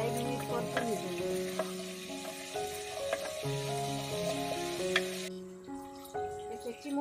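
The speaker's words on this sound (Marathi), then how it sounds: "त्याच्यात कढीपत्ता घालूया, कढीपत्ता 1 मिनिट परतून घेऊया।" Curry leaves sauté in hot oil for a sprouted-bean usal tempering, giving a continuous sizzle under tonal background music, with a few spoon scrapes as they are stirred.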